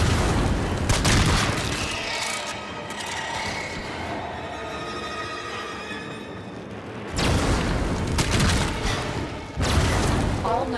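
Booming explosions as tumor nodes guarding an infested hive are destroyed in Warframe, with heavy blasts at the start and again near the end around a rumbling, mechanical stretch in between.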